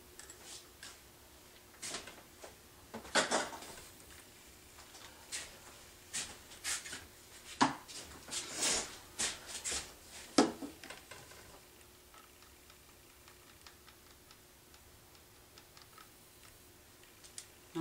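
A thick dimethicone and acrylic paint mixture is stirred in a cup, giving sparse, irregular clicks and scrapes as the stirrer taps the sides, fairly quiet and alone.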